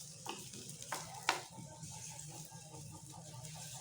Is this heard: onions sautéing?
yes